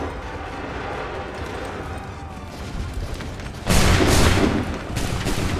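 A musket volley in Assassin's Creed 3 erupts as one loud, crackling burst of many near-simultaneous shots, rising out of steady battlefield noise and trailing off in a rumbling tail.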